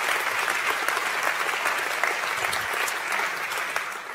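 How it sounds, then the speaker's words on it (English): A large academic audience at a university opening ceremony applauds steadily, a dense, even wash of clapping that holds at a constant level throughout without any voices. "please give a big hand to Mr. Maikel Beerens."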